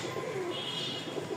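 Rajshahi Giribaz pigeons give soft, low coos in a quiet, brief moment, with two gentle cooing phrases and no voices.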